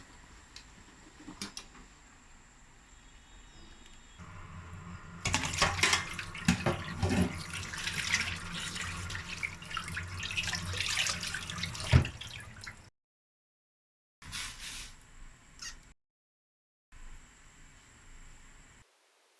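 Water boils in a pot as a pork hock is blanched, a loud, dense bubbling and hissing surge in the middle that drops to quieter water noise with short pauses near the end.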